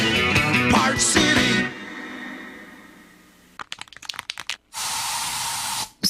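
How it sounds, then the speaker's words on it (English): A can of bug spray from a radio ad gives a loud, steady aerosol hiss of about a second, alone after a few short clicks and crackles. "So you just used bug spray in your home."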